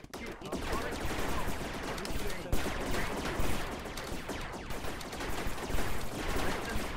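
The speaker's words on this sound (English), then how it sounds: "Stop shooting!" Rapid gunfire from a Rec Room multiplayer match crackles in dense, overlapping bursts for the whole stretch, loud and close, with sharper single shots standing out amid the fusillade.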